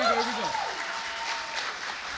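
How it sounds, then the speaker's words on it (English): An audience at a poetry performance in the Burgoyne Theatre breaks into brief, moderate applause after a voice briefly trails off, and the clapping holds steadily for a couple of seconds. "Y'all can clap for me."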